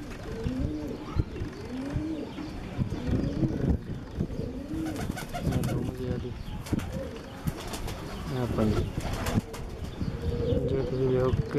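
Pigeons coo in soft repeated phrases at a pigeon loft in Sialkot, with wings flapping now and then, while people talk in the background.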